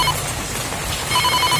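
A telephone rings with a repeated electronic trill under a noisy, loud background.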